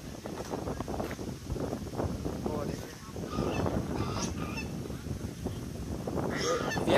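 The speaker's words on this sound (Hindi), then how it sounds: "ये बतख के शोर कर रहे हैं अभी," Geese or ducks honk repeatedly at a water park, a steady chorus of fowl calls with wind noise on the microphone and a person talking faintly nearby.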